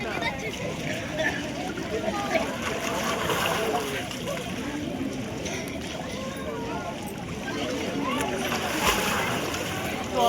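Bathers splash and slosh in the Ganges at the Sangam ghat during the Magh Mela, with irregular close water sounds mixed with nearby voices talking throughout.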